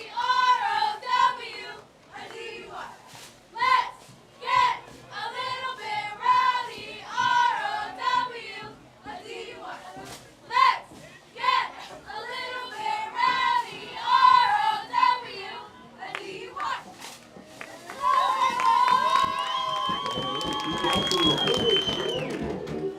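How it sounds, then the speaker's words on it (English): White Swan High School cheerleaders chanting at a football game against River View: rhythmic shouted chants in unison that break into bursts, followed by crowd cheering and applause at the end. "Great job by the White Swan High School cheer squad."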